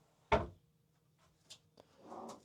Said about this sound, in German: Und nochmal jede Menge Schubladen.